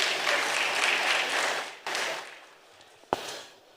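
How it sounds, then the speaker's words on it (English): Audience applause at a corporate anniversary event swells loudly, dips, briefly resurges, then fades to scattered claps with a single sharp clap or knock near the end. "Give him a round of applause, please."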